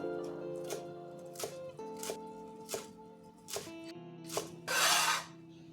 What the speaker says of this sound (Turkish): Yaklaşık 15 dal yeşil soğanı da doğruyor ve tekrar karışım kabına ekliyoruz.